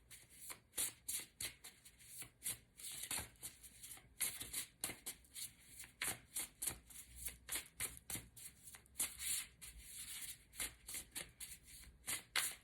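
Tarot cards being shuffled by hand in a steady run of soft, riffling bursts, quiet and close with no one talking.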